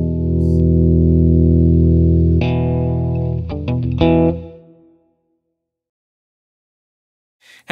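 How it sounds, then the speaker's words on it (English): An electric guitar played through a brand-new 5E3 tweed tube amp rings out in sustained, loud chords for about four seconds, then a few choppier strums before it cuts to silence, with a brief noise at the end. "we're here today with my brand new 5E3 tweed amp."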